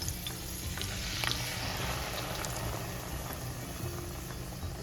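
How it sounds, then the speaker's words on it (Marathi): Paneer, green chilli and cashew puree for malai paneer cooking in a pan, a dense steady bubbling sizzle with soft stirring scrapes throughout, close and continuous, no talk. "आणि त्याला सतत ढवळत राहायचं कारण ते चिटकू शकतं"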